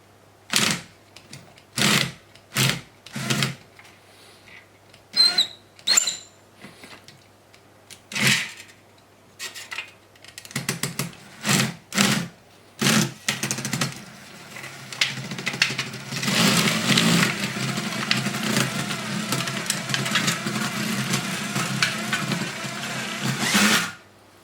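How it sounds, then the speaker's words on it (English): Corrugated iron sheet worked through hand-pressed rollers, starting with a series of separate sharp metallic clanks and clicks, then a longer continuous grinding rattle as the sheet rolls through, close and fairly loud. "tip of the sheet into the rollers and I press it by hand and then try to get it going"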